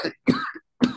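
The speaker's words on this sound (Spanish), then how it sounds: "Disculpen la tos." A lecturer still getting over the flu lets out three short, throaty coughs at close range during a conference closing lecture, with brief silent gaps between them and no talk.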